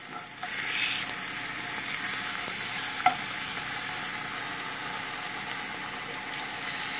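Steady crackling sizzle of turkey bacon frying in hot grease, continuous and fairly close, with one brief sharper pop partway through.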